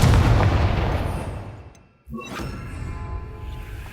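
The Confringo fire blast spell in the video game Hogwarts Legacy, a rumbling boom that fades, then a sharp whooshing burst with a crackling tail, loud and close.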